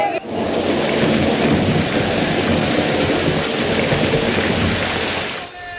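Steady heavy night rain in Alappuzha, Kerala, pouring down without a break, a dense close hiss that fills the whole clip.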